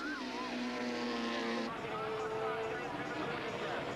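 Supertouring race cars of about 270 brake horsepower scream past at Killarney in a 1993 South African race, engines whining and shifting pitch as they pass, with a commentator talking over them.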